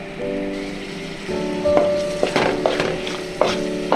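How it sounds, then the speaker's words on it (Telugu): Pieces of tomato frying in a pan for a crab fry, a close sizzle with scraping stirs and a few sharp knocks of the spatula, with no talk. "టమాటాస్ వేసుకొని బాగా ఫ్రై చేసుకుందాం దగ్గరగా"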